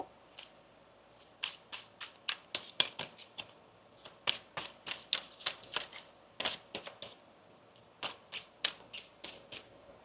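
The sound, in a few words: shuffling tarot cards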